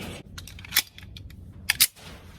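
Pistol shots from a Rock Island Armory 1911A1-FS firing Remington ammunition, fired one-handed outdoors: two sharp reports, one near the start and one later, over steady low background noise.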